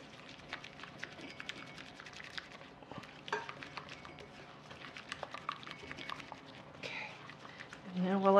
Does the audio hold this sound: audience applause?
no